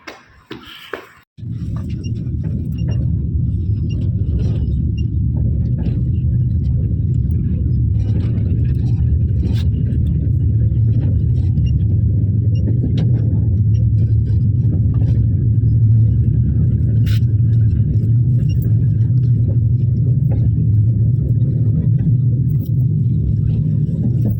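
A tram ride in cold Russian weather, with a steady low rumble of the moving car that begins suddenly after a few seconds of quiet and continues unbroken and fairly loud.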